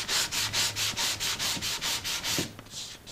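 Hand sanding of the finish on a 1964-style ES-335 guitar build, a steady back-and-forth rubbing in about a dozen even strokes, close and fairly loud, with a few light knocks near the end and no talking.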